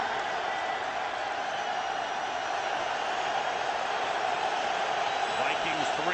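Crowd noise at a football stadium during a 2008 Vikings vs Bears game: a steady, dense roar of cheering fans, broad and continuous for the whole stretch, with no pauses and a slight swell near the end.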